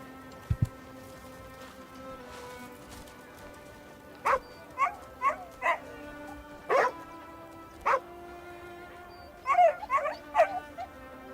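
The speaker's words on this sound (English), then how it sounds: "you guys want to see what a really cool dog is? He's got like armor on and everything." An armored dog in the fantasy video game Crimson Desert barks in a series of sharp, separate woofs spread across the clip, with a quick cluster near the end, over a steady low game ambience.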